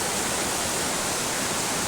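A river swollen by heavy monsoon rain in the hills rushes past as a dense, loud, unbroken roar of churning water that fills the whole moment.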